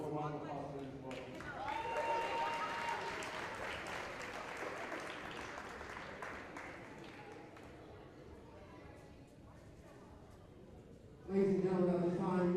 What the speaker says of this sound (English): So one more round of applause for them as well.